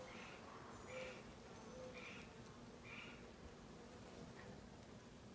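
Female worker bees buzz softly nearby, a faint steady drone with a few louder passes as individual insects fly close.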